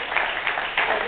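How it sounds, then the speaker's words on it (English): Audience applause at a seated gathering honouring a group of presenters, a steady wash of many hands clapping at moderate level for about a second, with no voices over it. "Could you please give a round of applause to this"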